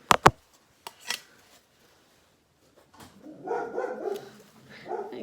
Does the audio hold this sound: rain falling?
no